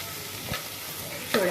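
Marinated mutton dropping into hot oil for a Telangana-style mutton curry gives a steady close sizzle, with a short burst near the start and a louder crackling flare toward the end, no voices.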